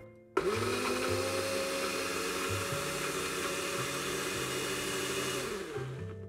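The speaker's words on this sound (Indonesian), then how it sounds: "Habis itu baru aku blend." Electric blender grinding turmeric root, switching on abruptly with a loud whirring motor that holds a steady high drone with shifting lower churn for several seconds before winding down.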